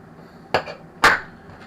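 Two sharp metallic taps, a light one then a louder ring, as a small part is knocked out of the centre of a dial during repair, with quiet pauses around them.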